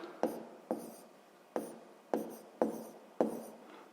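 A pen or pencil writes numbers by hand on paper in short, separate strokes, six crisp scratchy taps spaced about half a second apart, close and fairly quiet.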